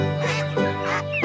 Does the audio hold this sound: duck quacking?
yes